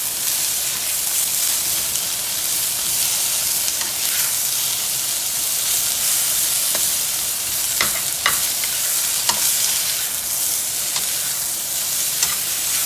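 Red snapper fries in a pan with a steady, dense sizzle and hiss throughout, broken by a few sharp pops and crackles, loud and close with no talking.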